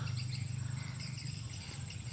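Swiftlet call recording played from a speaker at a bird house to lure swiftlets, a steady high chirping pattern running nonstop at moderate loudness with a low electronic hum underneath.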